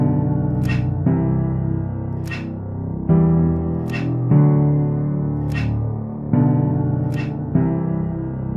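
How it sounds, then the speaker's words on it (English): A gun cocking sound with reverb, used as a drum sample, snaps out in sharp metallic bursts at a regular beat over a sustained, low, droning musical backing. "this is what I came up with for the gun cocking sound"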